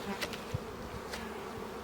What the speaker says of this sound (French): les abeilles et les butineuses qui reviennent,